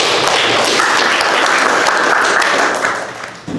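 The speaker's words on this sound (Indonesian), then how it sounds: "Tepuk tangan untuk kita semua, kasih aplaus." A group of students in a teaching session gives loud, sustained applause that holds steady, then thins out toward the end as a few voices come in.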